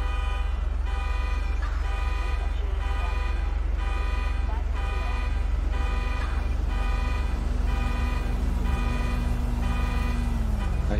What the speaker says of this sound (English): I hear something like a car alarm